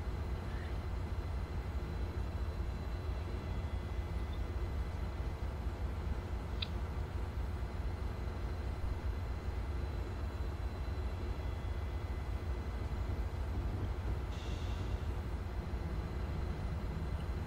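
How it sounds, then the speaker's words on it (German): A BR 218 diesel locomotive in the Train Simulator 2015 game pulls into track 11, a steady, unbroken engine drone and rolling rumble heard alone, with one faint brief squeal. "Ja, wir fahren auf Gleis 11 ein."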